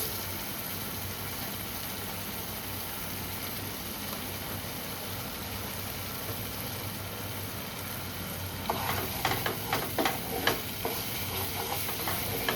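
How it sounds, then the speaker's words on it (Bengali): Spices with tomato and sugar sizzle steadily in a pan for a vegetarian paneer dish, a continuous frying hiss, then a spoon scrapes and stirs with several distinct clacks near the end. "এবার ভালো করে মশলাগুলোকে কষিয়ে নিতে হবে।"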